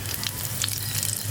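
Dried red chillies and bay leaves sizzle in hot mustard oil for village-style Pakal fish curry, a steady close crackle with brief louder pops, no talking.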